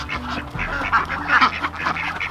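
Ducks quack steadily while tearing into greens as they forage, several birds close by with overlapping, busy calls over a low rustle.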